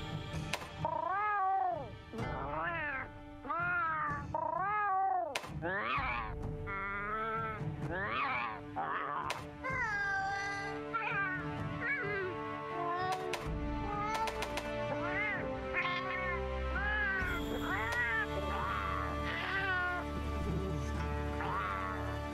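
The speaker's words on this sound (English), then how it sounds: "Are these human sounds making cat sounds?" Cartoonish cat meows from the Monster Hunter Rise Palico and Palamute editors, a rapid series of rising and falling mews and yowls over background game music, with people talking over parts of it.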